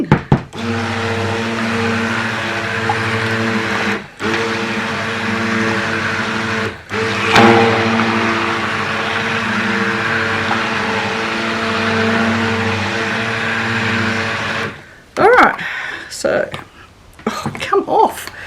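Stick blender whizzing a cold process soap mixture, a loud steady motor whine in several long bursts separated by brief pauses, then stopping with a few clattering knocks at the end.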